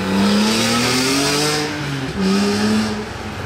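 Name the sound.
car engine revving through its exhaust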